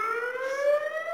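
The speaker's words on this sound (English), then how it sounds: "kung narinig nyo yung alarm, here in Holland, pag may alarm na ganyan" A public warning siren in Holland sounds as one steady, loud rising wail with clear harmonic tones, heard alone without talk.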